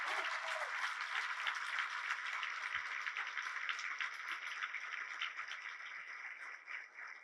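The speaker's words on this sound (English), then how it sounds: "Can you give them a huge round of applause?" Sustained applause from a large audience honoring the 2024 Rose Court at the 105th Rose Queen announcement and coronation, steady dense clapping filling the room and tapering slightly toward the end.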